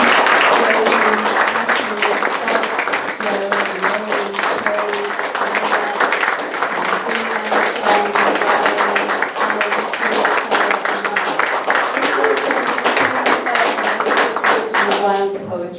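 Audience applause at a poetry open mic night in a theatre, a dense, steady wash of many hands clapping that runs throughout, with voices mingling beneath it.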